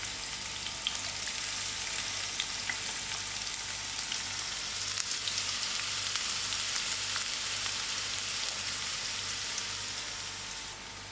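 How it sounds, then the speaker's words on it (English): Onions hit quite hot oil over a moderate flame, giving a loud, close, continuous sizzle with fine crackling that holds steady throughout and fades slightly at the end. "Now I'm going to add in my onions. The oil is quite hot."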